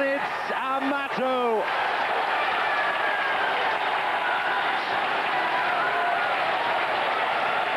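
Football crowd at a UEFA Cup match between Shelbourne and Glasgow Rangers roars and cheers continuously as fans spill onto the field, a loud, dense wall of sound with whoops and shouts, a commentator's voice rising briefly over it at the start.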